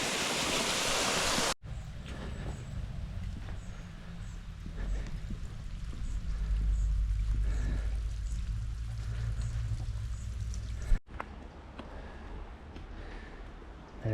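Rushing water cascades down stone steps in the Scottish Highlands, pouring and splashing continuously in a broad hiss, interrupted by a couple of abrupt cuts, with no one speaking.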